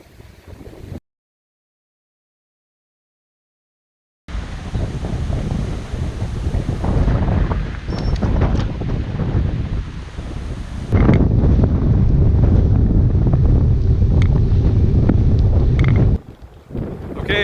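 Strong wind buffets a microphone on the Florida coast during a bike ride, a loud, rough, roaring rush that gusts and swells. There is a short silent gap near the start and no talk.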